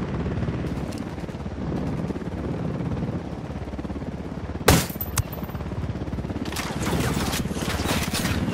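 Helicopter rotor drone with bursts of gunfire and a sharp explosion-like crack partway through, from the video game Ghost Recon Wildlands; dense, continuous combat noise with a louder flurry of shots near the end.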